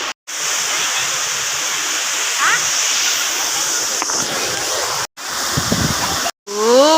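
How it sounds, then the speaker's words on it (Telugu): A steady, dense roar of rushing water at Kongula waterfall fills the whole stretch, with brief cuts and a few splashes; people are faintly audible beneath the constant wash. "వాటర్ ఫాల్స్ కి వచ్చేసాము"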